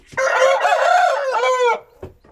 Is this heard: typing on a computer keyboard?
no